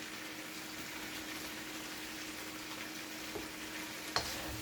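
Coloring sizzles steadily in a hot pot while being stirred for Jamaican-style peppered shrimp, a continuous frying hiss with faint scraping and a couple of small clinks near the end.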